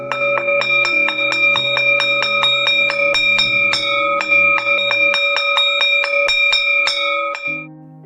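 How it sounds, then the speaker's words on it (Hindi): A school midday-meal bell rings out in a rapid, steady series of bright metallic strikes for several seconds, loud and close, then stops. "अरे भाई मिड डे मील वाली घंटी बज उठी।"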